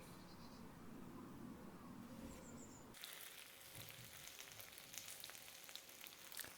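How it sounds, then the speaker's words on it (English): Tandoori salmon sizzles and crackles on a hot barbecue grill, a steady frying hiss with small pops that grows brighter halfway through. "Listen to that sizzle"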